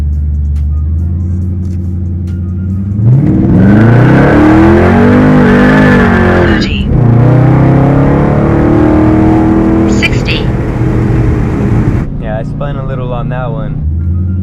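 A Dodge Charger Scat Pack accelerates hard from a standstill on a slightly dirty road in a 0 to 60 run. The engine's loud roar climbs through several gear changes and runs close and strong for about ten seconds before easing back to idle.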